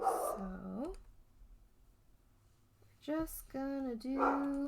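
A pet dog gives short bark-like yips and whines at a distance, a couple of brief bursts around someone speaking.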